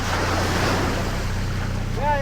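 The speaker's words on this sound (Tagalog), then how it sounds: "Lakas ang alon guys. Grabe," Strong ocean waves surge and rush beneath a loud, steady roar of wind and boat engine noise, heard aboard a boat, with a brief voice near the end.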